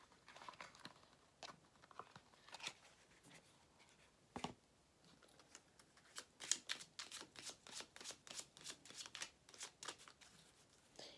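Lenormand cards are shuffled and handled during a card reading: soft scattered flicks at first, then a run of quiet, quick papery riffles and taps near the mic, with no talking.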